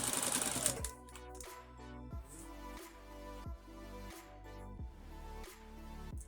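A sewing machine stitches a zipper seam in short bursts, its low motor hum starting and stopping roughly every second, close and fairly quiet, with a brief noisy rustle at the very start.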